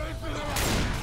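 Gunfire in the zombie shooter Left 4 Dead 2, a rapid burst of shots that swells partway through and stays loud and close, with a voice talking over it.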